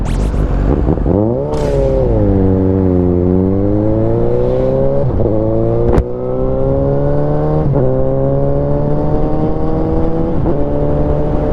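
A Suzuki GSX750 motorcycle with a quickshifter, ridden with a passenger, its engine droning loud and close as it accelerates through several gear changes, pitch climbing then dropping at each shift, with no talking.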